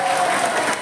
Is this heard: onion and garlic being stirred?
no